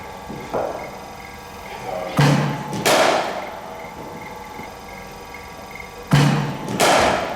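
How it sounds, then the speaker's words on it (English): Cricket bat striking ball during a net session, sharp woody cracks at intervals with thuds following, close and fairly loud, with a coach talking between shots. "That's a lovely shot, Jacko."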